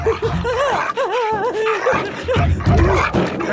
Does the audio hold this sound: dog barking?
yes